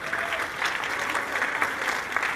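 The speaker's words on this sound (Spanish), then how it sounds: "Un aplauso a la senadora." A crowd claps and cheers in a steady burst of applause for a senator at a maize fair in the Senate, filling the whole moment without a pause.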